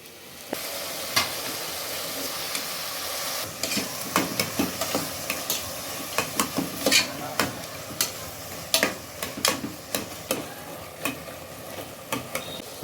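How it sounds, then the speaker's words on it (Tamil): Onions sauté with salt in a hot pan for a homemade paneer pulav, a steady sizzle running throughout while a spoon scrapes and stirs in a loose, repeated rhythm, close and fairly loud. "வெங்காயம் வதங்கிறதுக்கு ஒரு தேவையான அளவு கொஞ்சம் உப்பு சேர்க்கவும்"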